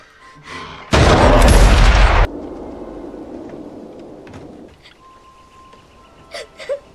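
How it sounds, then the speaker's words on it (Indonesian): A single loud gunshot from the Wolf Man film, a sharp blast that rings for about a second before trailing into a low rumble, followed by faint scattered sounds. "Namun karena ketakutan, Charlotte pun menembak Blake."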